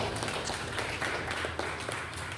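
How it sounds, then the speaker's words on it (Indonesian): Scattered applause from an audience at a social teaching session, a steady bed of clapping lasting a couple of seconds at moderate distance with no voices over it. "Tepuk tangan buat Anda semua"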